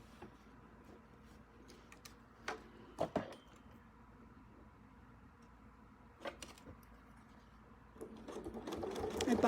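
Sewing machine stitching a half-inch quilt seam, quiet at first with a few isolated clicks and taps, then the motor runs up into steady, louder stitching in the last seconds.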